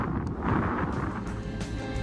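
Gusty wind buffets the microphone outdoors beside Auckland's Museum of Transport and Technology, a steady low rumble with no pauses and no talking.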